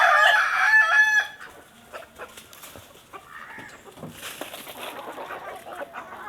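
A rooster crows loudly at the start, then country chickens let out of their coop in the morning cluck and chatter in irregular bursts nearby, with some faint bird calls around them.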